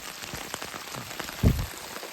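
Rain falls steadily on a mountain trail on Mount Merbabu via the Suwanting route, a constant soft patter with one brief, louder low thump near the end.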